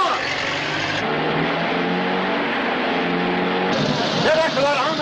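A 1939 car's engine roars steadily during a chase, a loud, continuous mid-pitched drone with a rising rev near the end, while voices talk over it.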